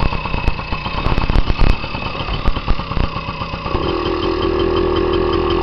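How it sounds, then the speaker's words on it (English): A 1985 Yamaha QT50 moped is kickstarted with several rattling kicks, catches, and settles into a buzzy, steady two-stroke idle close by. "Kickstart only, no electric. Starts right up though."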